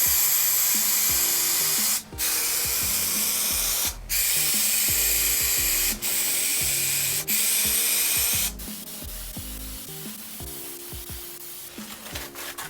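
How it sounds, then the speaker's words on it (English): Spray adhesive hisses steadily onto a wooden top and a sheet of veneer in several long bursts with brief pauses, then a quieter stretch of faint rustling and handling. "I'm going to use this spray adhesive on the top and I'll use it on the veneer as well."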